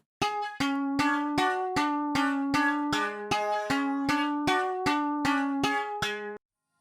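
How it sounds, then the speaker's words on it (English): The Ableton stock synth preset Buzz Hang plays a bright, buzzy, hang-like pattern of evenly spaced plucked notes in a steady rhythm. Each note has a sharp attack and a short ring, and the notes step between a few pitches before stopping abruptly. "I used this stock Ableton preset, Buzz Hang, and made this pattern."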